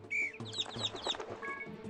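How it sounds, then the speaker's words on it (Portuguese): Small birds chirp and tweet in quick overlapping bursts in the mobile puzzle game Save The Girl, close and moderately loud, with a few soft fluttering sounds and no talking. "Tem os passarinhos aqui, vou usar o apito."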